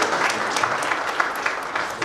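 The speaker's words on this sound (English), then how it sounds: "I think he deserves a big round of applause." Steady audience applause at a groundbreaking ceremony for a Schneider Electric smart factory in Hyderabad, with dense clapping of even loudness throughout.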